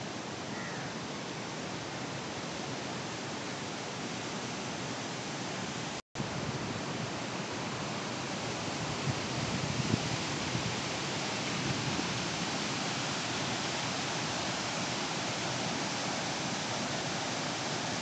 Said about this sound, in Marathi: आणि इकडून जे कातळापूर गावावरून तेरंगणवाडीवरून पाणी येतं ते ह्या धबधब्याने येतं